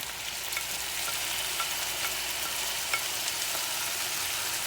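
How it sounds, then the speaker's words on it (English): Beef added back to a pot of cooked onions sizzles and fries steadily, a dense even crackle with small pops, close and continuous throughout. "now to that, we're going to add our beef back to that now."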